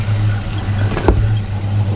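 A warmed-up Rover P4 engine runs at a steady idle after a service, a close, even low hum with no revving.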